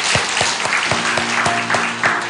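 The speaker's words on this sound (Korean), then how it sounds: "박수 한번 쳐보세요" A church congregation claps during an evening worship service, steady hand claps with a regular beat over a dense wash of applause, close and fairly loud throughout.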